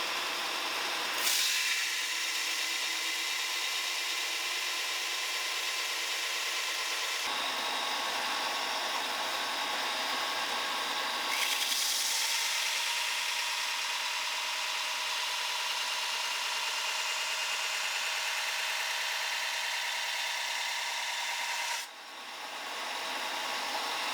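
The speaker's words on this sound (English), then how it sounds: "Now everybody's favorite part, the bevel grind." Steel knife blade having its bevel ground on a powered grinder, a steady loud abrasive hiss and whine running in long continuous passes with brief pauses between them, no talk.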